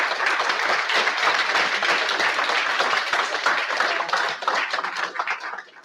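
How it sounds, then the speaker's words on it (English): Sustained audience applause for a conference panel, dense steady clapping from a crowd that holds strong throughout, then starts to thin and fade toward the end. "Big round of applause for our panelists, please."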